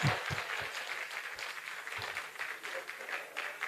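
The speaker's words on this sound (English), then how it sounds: "I expected a louder applause on that issue." A crowd at a national conference opening ceremony applauds with a steady, fairly faint wash of clapping from a large room, sustained evenly for several seconds without speech on top.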